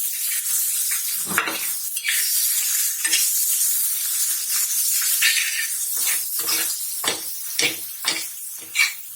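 Chili powder being stirred into egg bhurji in a pan over a steady loud sizzle, with repeated scraping strokes of a spoon against the pan, growing more frequent toward the end.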